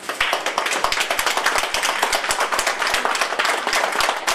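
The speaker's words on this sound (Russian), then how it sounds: "Встречайте их громкими аплодисментами." At a kindergarten graduation party in Yekaterinburg, a crowd of parents claps loudly and close by in a fast, rhythmic pattern, with sharp individual claps standing out throughout.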